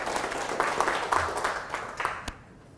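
Brief applause from an audience at a coffee product launch, a moderate patter of clapping hands that fades out after a couple of seconds with a last clap near the end.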